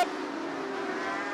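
Dirt-track modified race cars at Bubba Raceway Park roar together right after the green flag, a dense, loud, continuous engine blare from the pack accelerating down the track.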